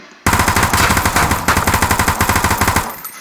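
An M3 gun in a zombie video game fires a rapid automatic burst that starts abruptly after a short quiet. The sharp shots come close and loud in a steady rhythm, pause briefly, resume and then stop.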